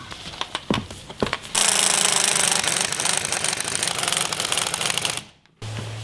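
A pneumatic impact tool tightening a coil spring compressor during coil spring replacement, giving a few short bursts and then a long, loud, close rattling hammer that stops abruptly.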